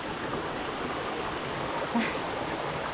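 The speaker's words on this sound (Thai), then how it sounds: "อันนี้ก็คือ เป็นบรรยากาศของน้ำตกชันตะเถน ที่อยู่ บางพระ ศรีราชาชนบุรีค่ะ" Water at Chanta Then waterfall in Bang Phra, Si Racha, Chonburi, Thailand, gives a continuous soft hiss of flowing stream water. A brief faint clink sounds near the middle, and no one talks over it.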